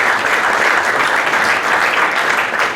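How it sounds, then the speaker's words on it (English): Press conference audience applause ahead of a middleweight championship boxing fight, a steady, fairly loud burst of many people clapping with no pauses. "I want to just have you guys give yourself a round of applause for making this fight."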